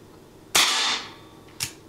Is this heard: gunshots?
yes